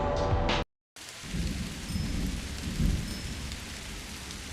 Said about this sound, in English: Really like that lightning effect.